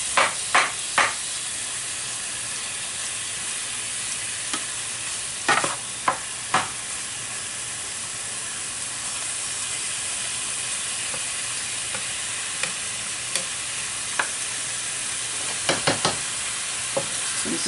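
Beef strips sear in a hot pan with a constant broad sizzle, broken by a few sharp clicks and knocks of a utensil moving the meat, close and steady, no talking.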